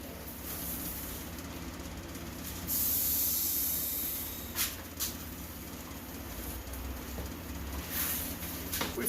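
A compressed-air spray gun hisses steadily while painting car taillights, a continuous close spray sound with one louder, brighter burst partway through and a few short clicks.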